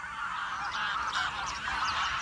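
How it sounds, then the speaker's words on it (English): Wild geese, including grey-lag geese, honking in spring, a dense overlapping chorus of nasal calls from a flock, steady and fairly close, with no talking. "The wild geese are back."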